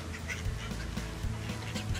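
Ducks quacking nearby, several rapid overlapping quacks in a busy, continuous chorus of birds at moderate volume.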